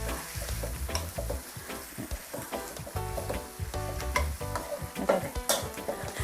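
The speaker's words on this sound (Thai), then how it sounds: "เดี๋ยวเราผัดให้น้ำพริกเผาเขาละลายก่อน" Mussels stir-fried with roasted chili paste in a hot pan, a steady close sizzle with constant spatula scraping and tapping throughout, no voices.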